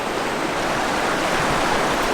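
High, raging river water released from a dam rushes past as a broad, constant roar, loud and close with no breaks or voices.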